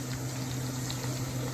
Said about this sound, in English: let the onions cook with the bay leaf